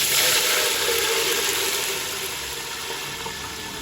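Water pours steadily into a pot of fried fennel seeds, a loud broad rush that eases slightly toward the end, with no talk.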